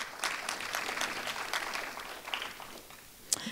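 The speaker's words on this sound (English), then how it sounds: "Give him a round of applause." Applause from the audience at a middle school art awards ceremony honoring an eighth-grade student, a fairly soft, sustained patter of many hands that tapers toward the end, with one sharper clap near the close.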